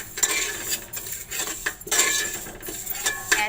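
Wheat dalia (gandum porridge) stirred in a little oil in a pan, with a spoon scraping and clinking against the metal in repeated close strokes and a soft sizzle beneath, no voices.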